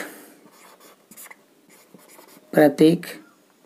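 Marker or chalk strokes on a board during a chemistry numericals lesson, a series of faint scratchy strokes followed by two louder, closer scrapes near the end, with no talking over them.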